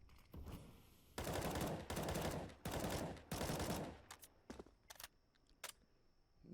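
Bursts of automatic rifle fire in Counter-Strike on the Vertigo map, four loud sustained volleys followed by scattered short shots and faint clicks, no talking.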